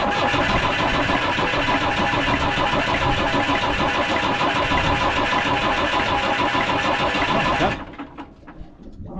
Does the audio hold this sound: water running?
no